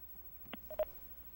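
Telephone keypad tones during a radio call-in on a fishing show: a few short, faint beeps, one brief tone then two closer together, with no talk over them.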